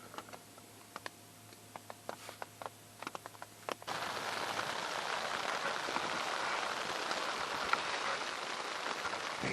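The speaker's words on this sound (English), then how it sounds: "It's raining now, guys, at times." Rain patters on an iron-walled hot tent overnight, starting as a few scattered sharp drops and then becoming a steady, dense, close hiss of rainfall.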